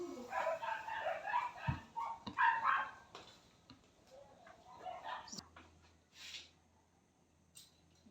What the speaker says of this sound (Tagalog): Ang ingay-ingay ng mga aso namin sa labas.